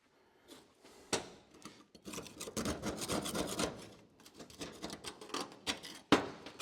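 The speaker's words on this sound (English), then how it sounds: "Just scrape it off and clean it up." Grime being scraped off the metal body of an SU electric fuel pump from a 1970 MGB, a run of dry rasping strokes with sharp ticks, close and fairly quiet, with no talk over it.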